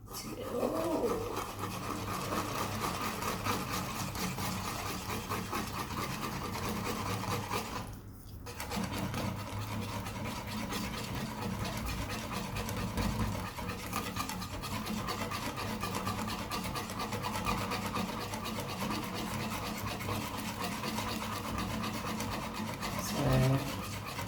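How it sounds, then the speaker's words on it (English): Flapjack ingredients whisked together in a bowl: a continuous, close scraping and rubbing rhythm that runs almost unbroken, with one brief pause partway through. "everything is inside and I'm mixing everything now"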